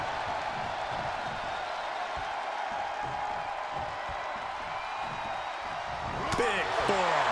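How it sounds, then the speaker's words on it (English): Packed wrestling arena crowd roaring in a steady, loud wash during a Hulk Hogan versus Andre the Giant match, with a commentator talking over it and rising cheers near the end. "The sound of this crowd is deafening"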